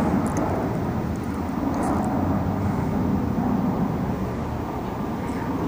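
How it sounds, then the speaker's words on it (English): An aeroplane flies overhead near a river, a steady broad engine roar that stays loud and constant throughout, with faint outdoor background and no talk. "Oh, aeroplane."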